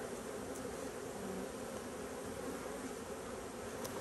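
Honey bees buzzing around an open hive at an apiary, a continuous, soft, droning hum from many insects close by with no voices.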